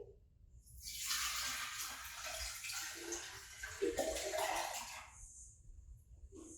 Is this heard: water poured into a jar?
yes